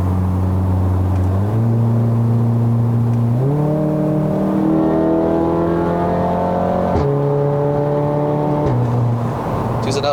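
Stage 2 tuned VW Golf R MK7 in Race Mode, its engine droning steadily as revs climb and drop through several gear changes, loud and close from inside the cabin.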